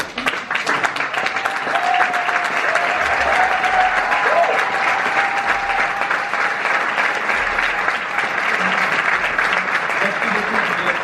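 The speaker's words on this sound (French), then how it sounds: "Je vous demande donc une salle d'applaudissements." A conference audience in Paris at an Africa-diaspora investment event breaks into sustained applause, a dense, even wash of clapping hands lasting about eleven seconds with faint voices mixed underneath.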